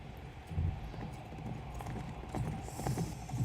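Horse hooves clip-clopping in a fantasy TV drama scene, a steady muffled trotting rhythm at moderate distance under ambient sound.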